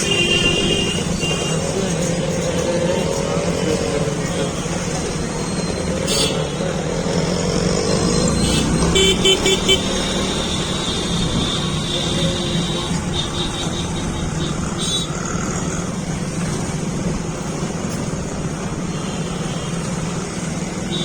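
Heavy road traffic heard from a moving motorcycle in town streets, a continuous loud engine and road rumble with passing vehicles, steady throughout, with no clear talk.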